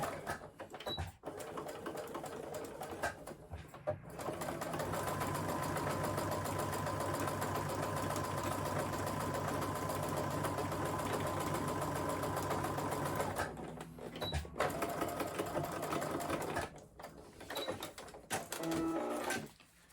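A sewing machine stitching a plain seam in fabric, running at a steady whirring hum for a long stretch, with brief stops and restarts for back stitching at the start and finish, close and fairly quiet.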